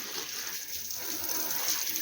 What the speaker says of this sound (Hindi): मैं लगा रही हूँ साथ साथ काम के पौधों को पानी